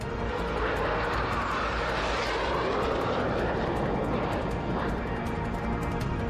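A Tu-160 strategic bomber roars overhead during a Russian aerial refuelling exercise, giving a loud, steady, dense engine rumble that fills the whole stretch without a break.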